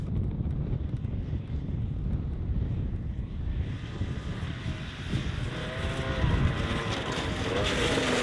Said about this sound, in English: This wind is not even cold, just a little bit loud.